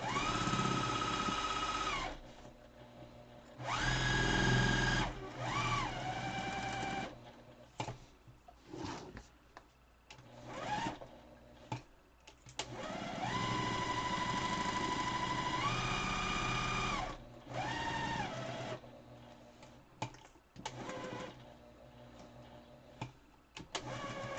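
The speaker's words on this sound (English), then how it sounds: "I'm gonna sew this all the way around the wire, as close as I can to the wire." A sewing machine stitches fabric around the nose wire of a homemade N95 mask, running in several loud bursts of whirring separated by short pauses and small handling noises.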